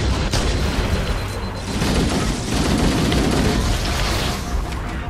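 Continuous heavy gunfire from enemies in Halo CE inside a hangar, dense crackling shots and booming impacts layered into a loud, unbroken roar of combat lasting throughout.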